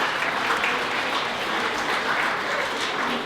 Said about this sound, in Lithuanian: Aplodismentai, paskutinį kartą.